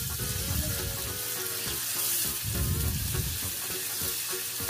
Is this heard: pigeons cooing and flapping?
no